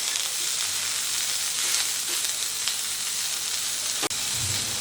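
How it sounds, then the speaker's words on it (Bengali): Broccoli frying with turmeric and salt over a medium flame, a steady even sizzle of hot oil throughout with one brief sharp tap near the end. "নুন হলুদ দিয়ে ব্রোকলিটাকে মিডিয়াম ফ্লেমে আস্তে আস্তে একটু ভেজে নেব"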